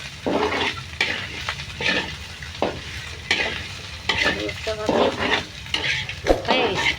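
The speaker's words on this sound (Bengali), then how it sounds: "উস্তা ভাজি প্রায় শেষের দিকে ভাজতে ভাজতে যত সুন্দর লাল করবা অত মজা" Bitter gourd (usta) bhaji frying in a pan with steady sizzling, broken by repeated scraping and stirring strokes of a utensil against the metal, close and fairly loud with no talking.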